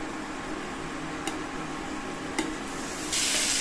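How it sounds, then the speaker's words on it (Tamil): Thinly sliced ridge gourd, capsicum and chayote sauté in a pan with a soft continuous sizzle, two sharp spatula taps, and a louder hiss rising near the end, with no talk. "சேர்த்த வெஜிடபிள்ஸ் எல்லாத்தையுமே நல்லா இந்த மாதிரி வதக்கி விட்டுக்கணும்."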